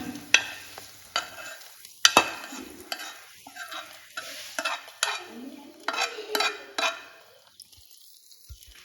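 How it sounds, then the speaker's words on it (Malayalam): Hot tempering poured into a drumstick leaf and lentil curry hisses briefly, followed by close stirring with sharp taps and scrapes against the pan in an uneven rhythm, and no voices. "ഇനി നമ്മൾ താളിപ്പ് മുരിങ്ങക്കറിയിലേക്ക് ഒഴിച്ചു കൊടുക്കുകയാണ്"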